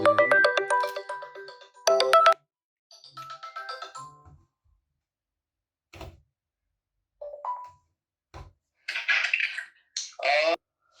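A phone ringtone chimes loudly in two tonal bursts, followed by scattered clicks, taps and a few short rustling noises.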